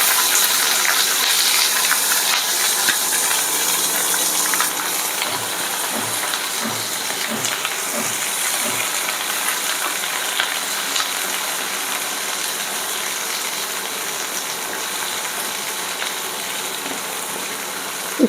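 Onions fry in hot oil in a pan for a chilli soybean dish, making a steady loud sizzling hiss throughout, with a few soft knocks early on.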